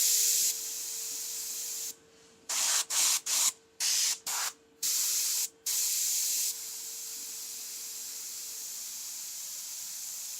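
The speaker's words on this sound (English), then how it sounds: "just get that little bit of black overspray on it to make it look a little bit darker" Airbrush spraying black paint as overspray on a freehand skull design, a steady hiss that cuts off and restarts in several short bursts before a longer continuous spray.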